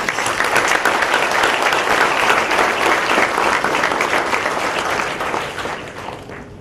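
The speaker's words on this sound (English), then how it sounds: "deserves a big round of applause from all of us" Big round of applause from faculty, researchers and students at the Indian Institute of Technology Madras during a speech; sustained, dense clapping from a large audience that holds steady and then thins out at the end.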